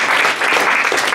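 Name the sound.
audience applause for a speaker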